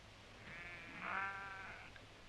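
A single sheep in Strathfillan glen gives one drawn-out bleat that rises in the middle, faint and distant over a quiet background.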